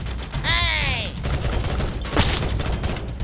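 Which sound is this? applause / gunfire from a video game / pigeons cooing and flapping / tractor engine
gunfire from a video game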